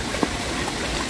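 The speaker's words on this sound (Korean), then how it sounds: "계곡의 물소리는" Water of a valley stream in a park, a soft continuous rushing and trickling heard close by, steady and alone for about a second.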